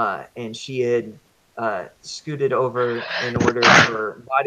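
A single sharp sneeze bursts out near the end, partly overlapping a person reading a story aloud.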